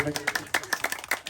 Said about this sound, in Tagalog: Ito po kung sino malakas ang palakpak, siya po mananalo.